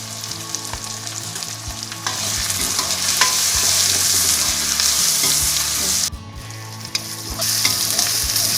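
Turmeric goes into a pan in which ginger and garlic are frying for an eel and king chilli curry, giving a steady, close sizzle with stirring scrapes and clinks and a brief pause before the frying resumes.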